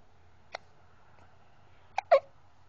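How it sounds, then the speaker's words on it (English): Three sharp, separate hiccups, one near the start and two close together near the end, the last one loudest, against a quiet background with no talking. "Oh, you don't like the hiccups, do you?"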